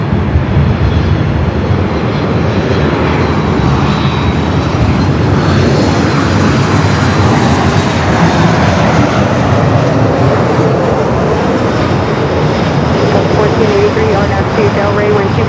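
A jet airliner roars steadily through its takeoff run on a Los Angeles airport runway, a loud, sustained broadband rumble, with radio voices talking over it.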